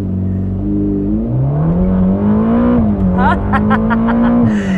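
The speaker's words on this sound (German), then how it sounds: "Und jetzt beschleunige ich nochmal durch." A Ferrari Roma accelerates hard from inside the cabin, its engine note climbing steadily and loudly through the gears, with a driver's voice speaking over the rising roar.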